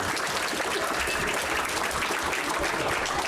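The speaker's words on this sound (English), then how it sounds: "if y'all can give them another applause" Sustained applause from a church congregation, steady and dense clapping from many people filling the room throughout.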